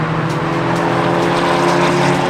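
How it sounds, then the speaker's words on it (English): A Hyundai i30N and other cars lapping Winton Raceway during a winter track day, giving a loud, continuous engine roar with a steady droning tone and no speech over it. "We're just watching the first set of cars go out."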